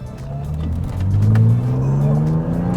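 A BMW Z3 M with a swapped S54 inline-six and six-speed manual accelerates hard, its engine note rising steadily in pitch with a faint tire squeal, loud and close from inside the car, with no talking.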